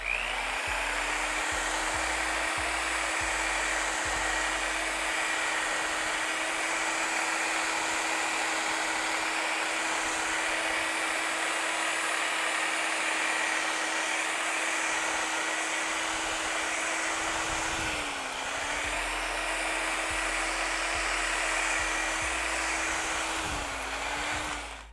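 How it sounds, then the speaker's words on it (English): Rotary buffer with a cutting pad and 3M cutting compound polishing a Lexus IS300 fog light lens, a loud, steady high whine held without a break, dipping in pitch briefly as pressure changes. "I'm gonna go ahead and polish it with my Lake Country cutting pad."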